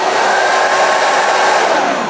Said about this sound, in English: Let's go ahead and turn the hair dryer up on high heat